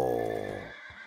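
A horse in a video game neighs loudly and close, a single whinny with a bright, shaky harmonic tone that fades out over about a second.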